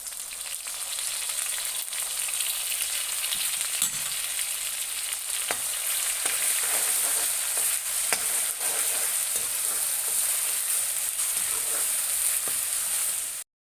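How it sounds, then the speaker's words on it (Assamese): Ginger, garlic and reddened onion fry in hot oil with a loud, continuous close-up sizzle, and faint stirring scrapes and taps run through it. "আদা, নহৰু, পিঁয়াজ ভজা হৈ গ'ল।"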